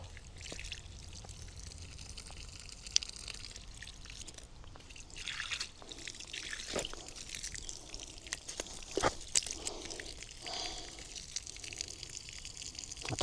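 Water trickling from drip irrigation tape in a vegetable garden, a faint steady dribble close by with occasional soft splashes and rustles.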